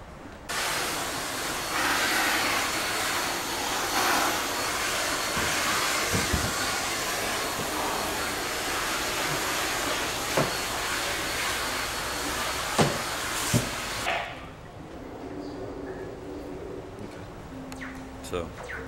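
A NaceCare backpack vacuum cleaner runs with a loud, steady whooshing roar and a few knocks from handling, then switches off and winds down to a lower, fading whine.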